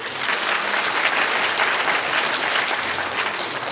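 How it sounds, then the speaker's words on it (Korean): An audience at a university lecture in Gyeongju claps, a dense, steady round of applause from a full room with no voices over it. "박수 한번 줘야죠."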